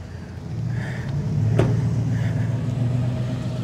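A Ford Probe engine in rough shape rumbles low and steady, its exhaust droning throughout, with a brief sharp click partway through.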